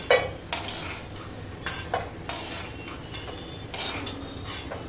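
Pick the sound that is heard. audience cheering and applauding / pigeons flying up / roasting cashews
roasting cashews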